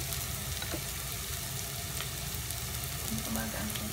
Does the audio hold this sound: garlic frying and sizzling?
yes